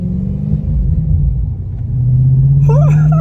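Audi B7 RS4 Avant with its 420 bhp V8, a loud close engine rumble that rises into a sustained rev, with a brief voice near the end.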